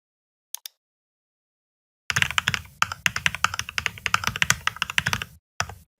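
Fast typing on a computer keyboard entering a Google search, close and crisp: two quick taps, a pause, then a steady burst of clattering keystrokes followed by a final pair of taps.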